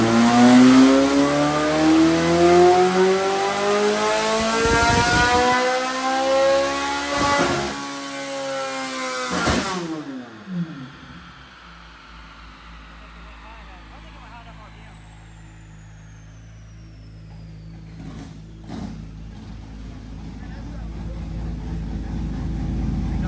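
A Corvette C8 Z06 with a ported intake and throttle bodies revs on a dyno: a loud engine climbs steadily through a full-throttle pull, cuts off sharply, then winds down with a lingering mechanical whir.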